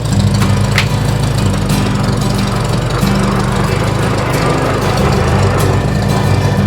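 A small engine runs steadily and loud after a cold start on a farm, a rough, low mower-like drone with a fast chugging pulse that holds without a break.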